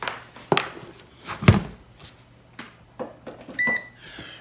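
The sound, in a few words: Magic Butter machine starting up and beeping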